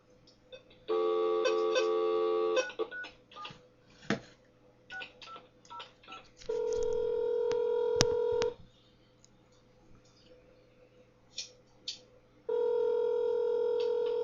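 A telephone keypad dials out a call, with clusters of quick DTMF beeps separated by pauses and steady held tones, clear and moderately loud with no talking.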